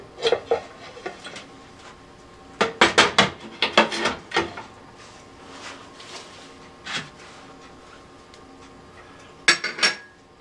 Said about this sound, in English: we're going to get that hot lid off